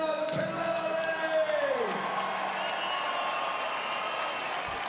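A boxing crowd at the Sergey Kovalev vs Nathan Cleverly fight applauds Cleverly, with sustained clapping and cheering through an arena announcer's voice that fades out early on.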